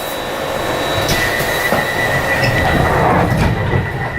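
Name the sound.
Glasgow Subway train starting off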